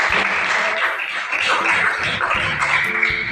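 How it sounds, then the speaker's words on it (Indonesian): A classroom of students applauds a classmate with a sustained burst of clapping that keeps an even, lively level from start to finish. "Beri tepuk tangan kepada teman."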